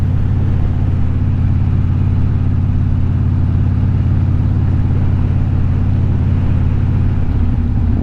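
A 1970s Porsche engine runs at a steady loud rumbling idle, a deep continuous drone close by with no talking.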